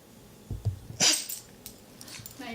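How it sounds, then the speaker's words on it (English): A pet dog at home gives a few short, close barks mixed with low growly whines. The sounds come in quick bursts against a quiet room. "So a little bit of our dog Max."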